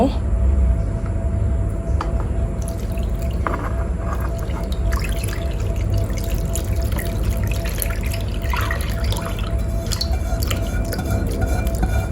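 White layer of talam pisang batter is poured slowly into a tray, a continuous close liquid trickle and drip under steady background noise, with a voice talking throughout.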